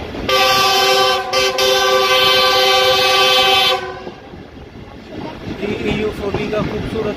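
A TezGam Express train between Lahore and Raiwind sounds a long, loud, steady horn blast for several seconds, then rolling wheel rumble and clatter continue beneath the horn's fading echo.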